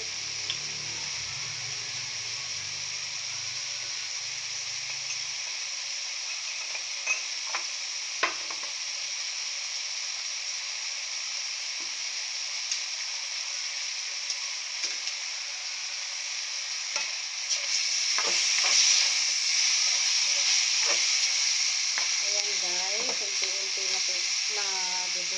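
Chicken and tomato cook together in a pan, giving a steady close sizzle and hiss with occasional stirring scrapes, growing a little louder and busier toward the end with no talking.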